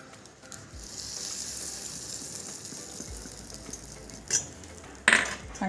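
Red chillies and curry leaves crackle in hot oil as a spice tempering for curd rice, a steady moderate sizzle with a couple of brief metallic clinks near the end.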